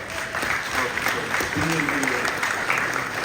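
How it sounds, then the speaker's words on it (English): Crowd applause at a Comic Con 2023 panel, a steady roar of clapping with faint voices mixed in underneath. "I want to give you all just a hand of applause for being here."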